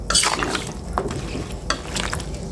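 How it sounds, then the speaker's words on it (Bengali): Bottle gourd simmering in a pot with a little water, salt and turmeric is stirred with a spoon, giving several close scraping and wet clinking strokes. "এখন একটু নেড়ে চেড়ে দিচ্ছি।"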